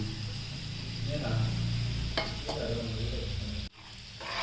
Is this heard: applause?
no